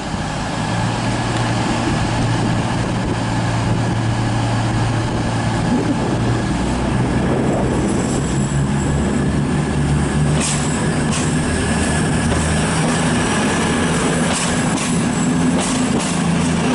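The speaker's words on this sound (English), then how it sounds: "Train departing here is 222017 on the 1644 cross-country service from Edinburgh to Bristol Temple" A CrossCountry Class 222 unit, 222017, pulls out of Newcastle station on the East Coast Main Line, its steady diesel rumble and rolling wheel noise loud and continuous throughout, with faint rail squeal creeping in toward the end.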